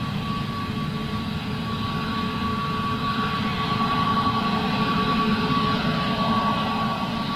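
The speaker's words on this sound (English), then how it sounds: "Listen to those fantastic engines." Airbus A320neo jet engines roaring steadily at an airport, a loud continuous low rumble with a sustained whine layered on top, heard alone without talk.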